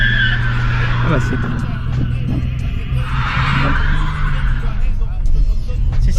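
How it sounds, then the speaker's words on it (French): A car does a short burnout in front of a market in Los Angeles, its engine humming low before the tyres break into a rising, scrubbing skid squeal, with voices talking over it. "J'ai fait un petit burn devant Bob's Market au calme."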